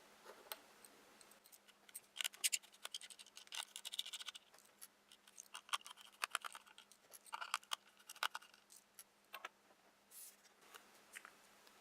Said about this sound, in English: Remove the 4 case screws.